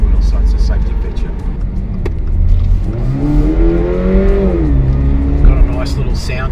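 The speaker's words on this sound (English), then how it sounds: "Got a nice little sound to it when you put the foot in." A Subaru BRZ accelerates, its engine note rising in pitch and then dropping at a gear change, under steady road and cabin noise. A person talks over it.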